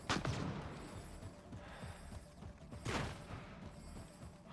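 Gunfire from the video game Mass Effect Andromeda, shots fired through a wall, with bursts of rapid shots at the start and near the three-second mark over a busy, noisy background.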